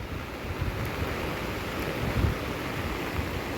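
Sita river in flood in Odisha, high rushing water around a bridge, heard as a steady broadband roar of churning water with wind buffeting, continuous and loud with no voices.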